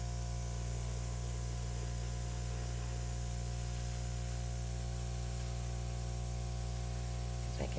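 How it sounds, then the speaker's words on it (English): Airbrush spraying acrylic paint for an acrylic pour, a steady continuous hiss of air and paint with a constant low hum underneath, unbroken for the whole stretch and fairly close. "I'm gonna airbrush it out because I think I can get more volume with the airbrush"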